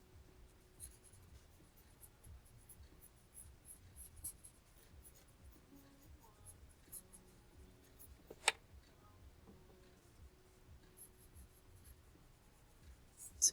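A paper stump blends pencil shading on drawing paper, making a faint, continuous soft scratching and rubbing with small strokes and one sharper tap, close and quiet with no voices.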